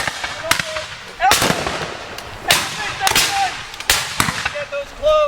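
Several sharp black powder musket shots fire one after another at a Civil War reenactment, loud and close, each with a ragged echoing tail, while voices call out between volleys.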